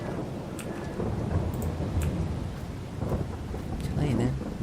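Steady rain with low rumbling thunder on a Saskatchewan farm in Farming Simulator 22, a continuous wash of rainfall with deep rolls underneath and faint voices in the background.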